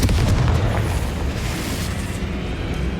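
A Confringo blasting spell goes off in the Hogwarts Legacy video game, a loud, deep boom that hits at once and then rumbles away over a few seconds.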